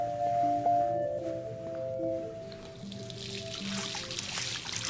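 Water runs and pours in the video game Life is Strange, a steady hissing stream that swells louder in the second half over soft tonal game music.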